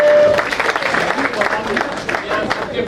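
Audience clapping for a girl shooter who won a medal, a burst of scattered hand claps from a crowd, loud at the start and continuing unevenly, with talking over it.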